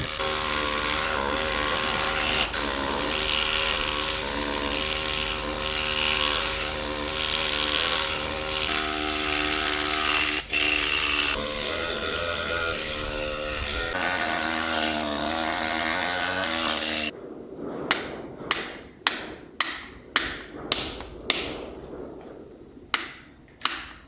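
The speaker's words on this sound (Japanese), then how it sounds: "こういうのみで削って徐々にやっていく感じですね。" A stone carver works a Japanese komainu guardian lion with chisel and hammer. Continuous grinding and scraping noise comes first, then a series of about ten sharp, evenly spaced metallic hammer strikes rings out close and clear.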